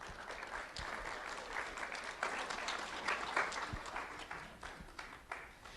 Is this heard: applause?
yes